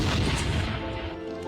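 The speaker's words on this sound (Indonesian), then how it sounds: "bersamaan dengan suara tembakan" A single loud gunshot rings out in a dramatic film scene, booming with a sharp broadband blast that decays over about a second and a half, with no talking.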